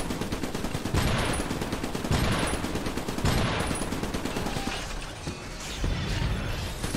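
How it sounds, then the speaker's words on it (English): Weapon reloading in a tower-defense style video game with scrap energy and emplacements: loud mechanical clacks and ratcheting bursts repeat about every second over a dense, continuous backdrop of game gunfire and noise, with no talking. "Gotta reload."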